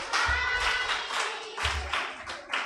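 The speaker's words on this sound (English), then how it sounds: "Give Mommy a hand clap." Small child claps hands several times in quick bursts, close by and moderately loud, with a few pauses between rounds indoors.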